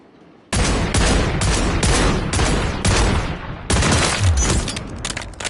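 Loud, dense bursts of rapid gunfire in the Call of Duty MW3 firing range, several volleys packed close together with only brief breaks, heavy and near throughout.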